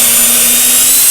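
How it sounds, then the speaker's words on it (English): Cordless or corded drill boring eye holes into a chainsaw-carved wooden bear, a loud steady high whine with a constant motor hum throughout, close up and uninterrupted. "Now you can use a cordless drill or a corded drill."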